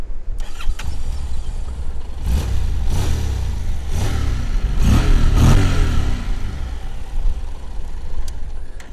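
Honda NC 750X motorcycle engine revving while riding in Fuerteventura, with several rising surges of throttle over heavy steady wind roar, close and loud throughout.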